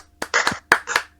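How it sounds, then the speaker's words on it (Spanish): A few people clap in short, sparse bursts, about five distinct claps close by, crisp and dry with quiet gaps between them. "Bueno, pues estamos aplaudiendo."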